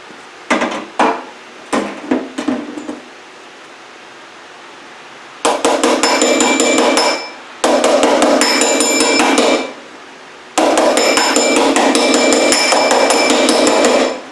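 A hammer strikes a metal dolly while reshaping the door bodywork of a Triumph Spitfire: a few sharp separate taps, then three long runs of rapid ringing metal-on-metal blows, close and loud with pauses between bursts.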